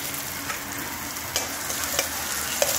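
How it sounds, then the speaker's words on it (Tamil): Chopped onions and dried red chillies fry in a pan with a steady sizzle and occasional light stirring clicks, close and moderately quiet, with no voices. "நல்லா ஃப்ரை பண்ணிக்கலாம்."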